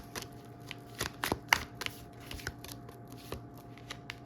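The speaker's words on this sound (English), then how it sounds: "Let's pull some more cards," Tarot cards riffled and shuffled by hand, then individual cards pulled from the deck, giving crisp close-up flutters and soft snaps at irregular intervals over a quiet background.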